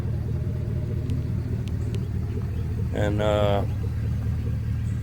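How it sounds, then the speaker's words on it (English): Chevrolet Silverado pickup truck engine rumbling steadily at low speed while trucks are repositioned in a yard, a close, even drone with someone briefly talking over it. "Just moving the trucks around"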